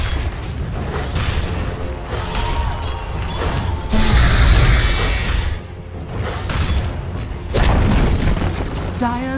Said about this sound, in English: Dire's middle tower has fallen.